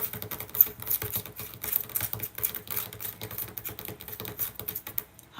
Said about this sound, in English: Once I start writing and typing it up